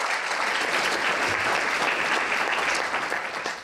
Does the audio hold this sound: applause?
yes